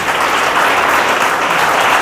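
A church congregation applauds at an evening service, a dense, loud, continuous roar of clapping with no break.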